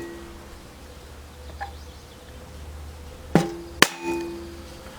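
Two sharp metallic taps about half a second apart, a hammer striking an awl to center-punch a boat propeller part, close and distinct against a quiet background hum.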